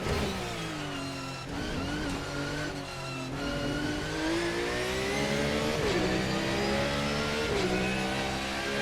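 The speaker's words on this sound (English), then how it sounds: "Brake in a straight line. Down the gears as quickly as we can go." GT3 race car in Assetto Corsa, engine screaming at high revs and dropping pitch in quick steps as gears come down under braking into a chicane, loud and continuous throughout.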